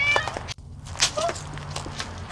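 A hungry stray cat that has been following people meows a couple of times, close and fairly clear, over low background hum and faint shuffling.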